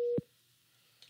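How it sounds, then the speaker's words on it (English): A single short electronic tone holds steadily, then cuts off with a soft thump, followed by near silence and a faint click at the end. "you should hear me beeping and leaving the conference"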